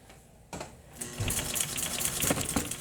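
A sewing machine stitches a box cushion, its rapid mechanical clatter starting after a quiet pause and running steadily close up.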